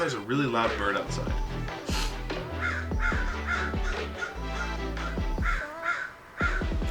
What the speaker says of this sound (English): there's a really loud bird outside